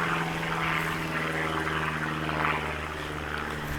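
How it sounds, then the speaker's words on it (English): A propeller plane passes overhead with a steady droning engine hum and buzzing propeller tone, holding fairly constant at moderate distance throughout. "plane flying over."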